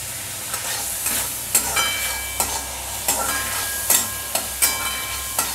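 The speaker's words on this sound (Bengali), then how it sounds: "তাই আজকে একটু পাস্তা করছি। এটা অলিভ অয়েলে করছি" Pasta frying in olive oil, with steady sizzling and repeated clinks and scrapes of stirring in the pan, close and continuous throughout.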